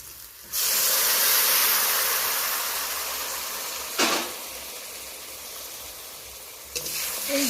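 A little water poured into a hot pan of spiced ginger paste for a tengra fish tel jhal sets off a sudden loud hiss. The steam sustains and slowly eases, with two brief knocks of a utensil along the way.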